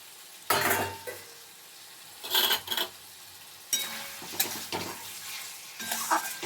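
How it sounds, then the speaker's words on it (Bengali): Fried potatoes being stir-fried with spice paste in a pan, in bursts of scraping and sizzling strokes with quieter gaps between them, heard up close. "এবার আলুটার সাথে মশলাটা আমি কষতে থাকবো"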